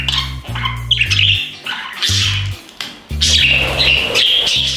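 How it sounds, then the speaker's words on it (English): A pet budgie screams a loud distress call, harsh repeated squawks and shrill calls filling the close, dry recording almost without pause. "So what is your screaming budgie trying to tell you?"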